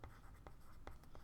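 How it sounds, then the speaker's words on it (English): Pen scratching on paper in short strokes, close and steady, during a talk on car maintenance costs, no voices over it. "let me write this"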